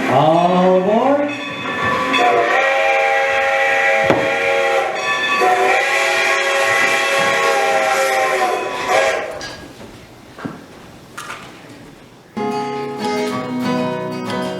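A train at a station sounds a loud, sustained whistle with rising and sliding tones over a rumbling background, followed by quieter rail noise and a final burst of whistle near the end.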